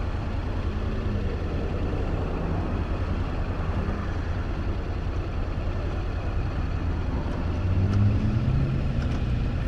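A 2020 Honda NC750X motorcycle on a test ride, its engine a steady low drone with wind noise, rising slightly near the end.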